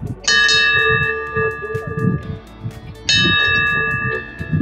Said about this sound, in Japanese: はい、パラレルの鐘です。